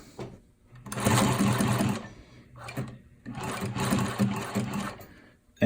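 Sewing machine stitching adjustable material, two bursts of rapid mechanical clatter each lasting about a second, separated by a brief pause and a short stitch, close and clear.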